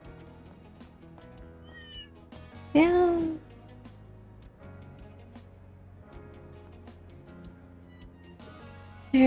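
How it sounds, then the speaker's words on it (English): A cat meows within the video game Trails through Daybreak II, one clear, loud meow rising out of background game music and ambience, with a short voice speaking briefly. "They're chasing a cat."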